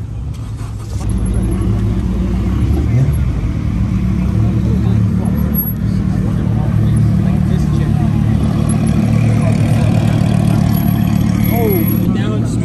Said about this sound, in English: This is my dad Mike's Porsche